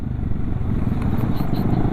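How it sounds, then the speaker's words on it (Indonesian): Yamaha XMAX Old scooter fitted with a Prospeed aftermarket exhaust, a loud, steady, rumbling engine drone close by with faint irregular pops over it. "Nah ini BTW knalpot ini kalau gue gak lepas gas suka meledak-meledak dia."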